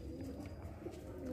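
Kaldum Fulsare pigeons cooing softly in a low, steady murmur at close range, with faint background noise and no voices.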